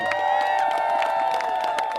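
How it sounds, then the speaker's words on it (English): Crowd at a food bank fundraising march cheering and clapping for a local theater troupe, a sustained lively burst of whoops, shouts and applause filling the space. "huge round of applause to Ashfield's Double Edge Theater!"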